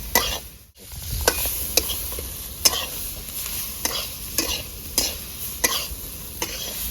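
Cauliflower paratha frying in a pan over a high flame, a steady sizzle broken by repeated sharp scraping and stirring strokes at a regular rhythm, close and fairly loud with no talking.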